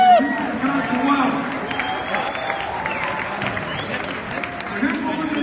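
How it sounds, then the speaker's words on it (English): Crowd applause at a Gary Johnson and Bill Weld political rally in Las Vegas, a steady wash of clapping and cheering for about five seconds, with a louder surge near the end. "Jason Wyman, let's give him a big round of applause."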